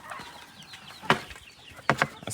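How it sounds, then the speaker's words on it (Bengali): Chickens kept indoors in a coop since hatching give soft, scattered clucks and short calls, a few sharper ones standing out over quiet shuffling background. "এই ঘরে যে মুরগিগুলো আছে, এই মুরগিগুলো তার জন্মের পরে আজকে এখন পর্যন্ত বাইরে বের হয়নি"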